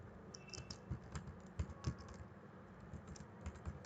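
Quiet keystrokes on a computer keyboard as a word is typed, a short run of soft, irregular clicks heard close up with nobody speaking.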